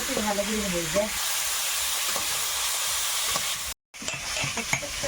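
Gagra fish fries in a pan of hot oil with a steady, close, loud sizzle and hiss. A voice is heard briefly at the start, and a short gap of silence near the end is followed by more sizzling and light stirring clicks.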